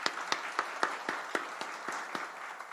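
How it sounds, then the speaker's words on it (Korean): A church congregation clapping together at a Sunday worship service, with about ten evenly spaced, fairly quiet claps in a steady rhythm that slowly loosens toward the end. "하나님께 우리 먼저 영광의 박수 올려드리겠습니다"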